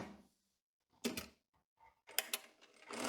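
Sewing machine stitching the waistband onto a tailored skirt with a 1 cm seam, heard in short, quiet bursts of mechanical running separated by pauses, ending in a longer stretch.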